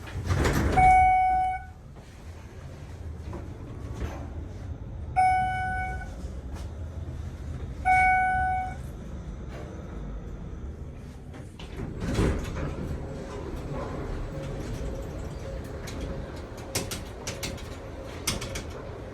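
A Schindler traction elevator door slides along its track with several rumbling passes, accompanied by three tonal chime beeps early on and later clunks and rattles of the moving door.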